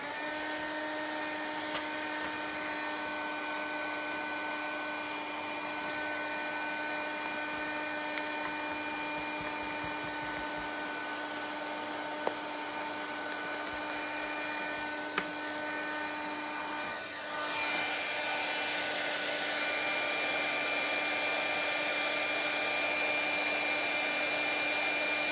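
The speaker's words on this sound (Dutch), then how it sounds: "Ik zet de föhn weer aan." A hair dryer used for heat embossing blows in a steady, loud whine with a constant tonal hum, then shifts to a higher, harsher setting partway through, running alone without talking.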